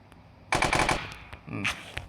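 A rapid burst of automatic gunfire, then a shorter second burst, with faint background noise between, like a machine gun in a video game.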